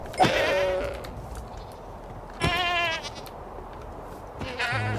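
A Minecraft goat bleats three times, with long, wavering, nasal cries spaced a couple of seconds apart. Each is loud and close over quiet game background, with no talking.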